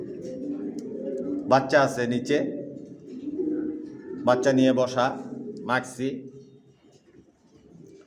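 Racing pigeons in a rooftop loft give low, soft coos in short bursts under someone talking nearby.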